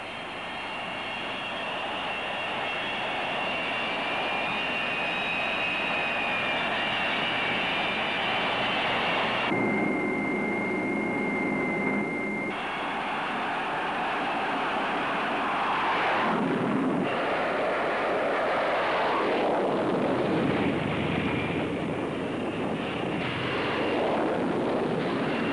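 Military jets launching from an aircraft carrier flight deck, a sustained loud roar of jet engines that swells and shifts as successive aircraft spool up and depart, heard at a distance with no voices.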